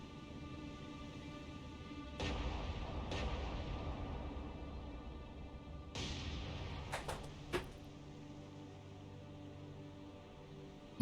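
Naval shells fire in the War on the Sea video game: two heavy booms about four seconds apart over a low engine drone, then a few sharp cracks and impacts, all fairly quiet.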